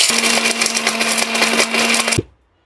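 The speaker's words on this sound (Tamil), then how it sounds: "கல்லையே பாருங்க எவ்வளோ பிளெண்ட் பண்ணி கொடுத்துருக்குன்னு பாருங்க" A copper-coil mixer grinder motor grinds broken tile stone pieces in its jar, making a loud, steady high-pitched whir with rattling grit for about two seconds. The motor then stops abruptly.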